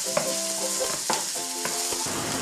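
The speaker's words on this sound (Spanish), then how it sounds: "entonces añadimos la cebolla, que pocharemos hasta que quede transparentita." Onion sizzles gently in oil, a steady soft frying hiss broken by a few light stirring clicks, close and alone with no talk.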